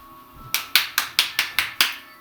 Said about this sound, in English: I like to start clapping to bring in some.